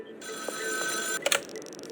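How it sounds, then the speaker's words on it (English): A payphone rings in the video game Schedule 1, a short, close, electronic bell trill lasting about a second before cutting off into quieter tones. "Talk to Uncle Nelson at a payphone"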